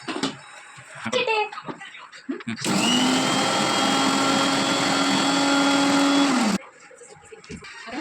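A kitchen mixer grinder powdering sugar for a sponge cake: after brief talk, a loud, steady motor whine runs for about four seconds, then cuts off abruptly as the voice resumes.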